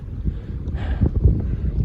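Steady low rumbling wind buffeting the microphone at Saint Mary's Glacier, gusting slightly, with no voices.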